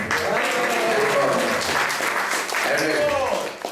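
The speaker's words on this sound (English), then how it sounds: "Let's give a round of applause for Kunal for sponsoring 2 cases of Bhagavad Gita." An audience at a Sunday temple class claps for a sponsor of Bhagavad Gita cases, steady applause running throughout with voices talking over it.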